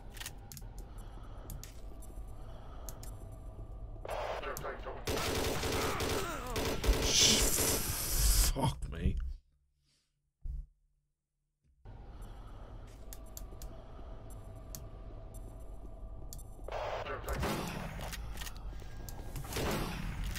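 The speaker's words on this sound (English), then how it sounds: "The chain gun rocks, guys." A chain gun fires in the modded video game Doom 3, with dense, rapid bursts that rattle loudly. The bursts stop for a short silence and then resume with more sustained firing.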